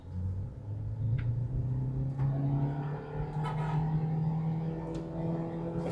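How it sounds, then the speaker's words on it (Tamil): Hyundai i20 Sportz 2019 petrol hatchback engine running steadily on a test drive with the air conditioning off, a continuous low hum and rumble that rises gently in pitch as it revs, heard from inside the cabin with no talking. "இன்ஜின் நாய்ஸ் கேட்குதா உங்களுக்கு?"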